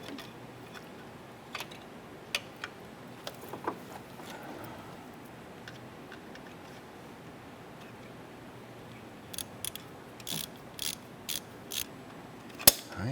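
A ratchet snugs down the engine knock sensor bolt on a Ford Five Hundred, with faint, sparse clicks that turn into a quick run of sharper ratchet ticks near the end.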